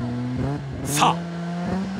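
A Mazda RX-7 FD3S tuned by FEED, pushed flat out on a Hachi Kogen hill climb road with tires struggling for grip, holds a steady engine note while a short sharp tire squeal bursts out midway, under someone talking.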